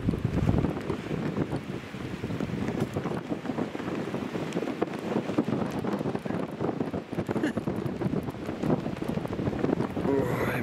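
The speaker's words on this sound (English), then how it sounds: "I'm trying to get out of the wind, but it's just blowing a gale" A strong gale blows hard across an exposed spot beside a mountain tarn, a steady, loud roar of wind buffeting the microphone for the whole stretch with no pauses.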